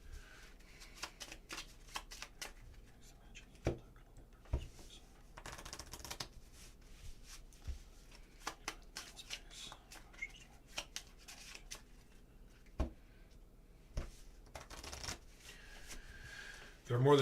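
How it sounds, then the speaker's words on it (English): Playing cards are shuffled close up in quiet, scattered bursts of soft riffles and taps, with short sharp snaps spaced irregularly over a hushed background. "ASMR shuffling for the next couple of minutes"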